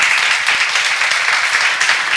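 A church seminar audience applauds steadily, dense and loud, many hands clapping at once with no pauses throughout.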